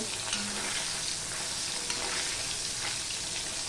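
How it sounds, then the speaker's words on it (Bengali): Murola fish pieces fry in hot oil over medium heat, a dense, even sizzle heard up close with faint clinks as the pieces are turned side to side. "হালকা করে ভাজবো, বেশি মিডিয়ামে দিয়ে এরকম এপিট ওপিট করে আমি ভেজে নেব"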